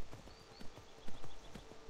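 Horse hooves clip-clop in a quick, uneven rhythm as a mount trots over ground in Skyrim, close and moderately loud with no talking.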